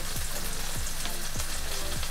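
Ginger sizzles steadily in a frying pan over medium heat, a continuous close hiss with a few soft stirring scrapes, no voices.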